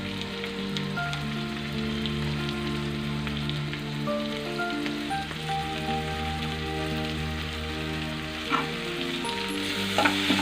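Sliced tomatoes sizzling steadily in a hot pan, a dense crackling fry like rain on a surface that runs the whole time, close and fairly loud, with a faint steady tonal hum beneath and no voices.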